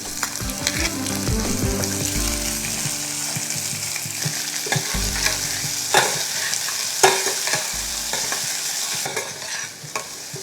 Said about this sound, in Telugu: ఉల్లిపాయలు ఒక్క నిమిషం వేగిన తర్వాత